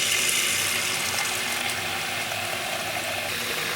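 Water pours into a pot of baby potatoes, a loud, steady rushing hiss close by that runs without a break.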